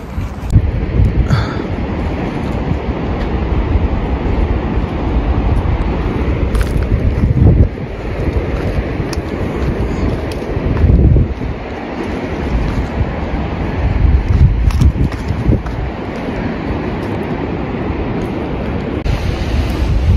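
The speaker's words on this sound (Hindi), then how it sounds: "वाटरफॉल है क्या ये? नाला है, हाँ वाटरफॉल।" Water rushes steadily from a waterfall on a mountain stream in Waichin Valley near Malana, a loud, continuous broadband roar mixed with wind buffeting on the microphone, with no talking.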